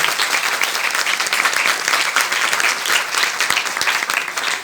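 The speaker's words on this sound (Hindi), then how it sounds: "जोर से तालियां अपने खुदा के लिए" A church congregation applauds loudly for God during a Hindi-language worship service, a dense, steady wash of many hands clapping that fills the whole stretch without a break.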